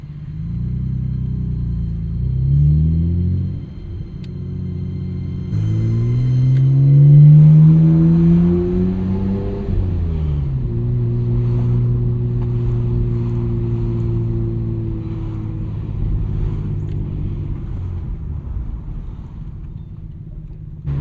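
A 1999 Nissan Skyline R34 GT-R drives along, its engine note rising through several gear pulls with harmonic sweeps climbing and dropping, loud and close under steady road rumble.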